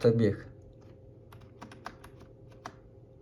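Someone types an IP address on a computer keyboard while configuring pfSense. A short burst of voice comes first, then a run of quick, light key taps follows at an uneven pace, close and moderately quiet.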